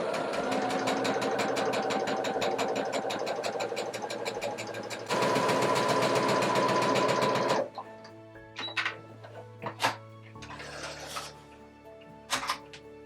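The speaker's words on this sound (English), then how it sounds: "I'm going to straight stitch right along, probably about 1/8 of an inch away." Domestic sewing machine straight-stitching basting rows on fabric: a fast, steady mechanical whirr runs for several seconds, speeds up briefly, then stops, followed by scattered clicks and handling sounds.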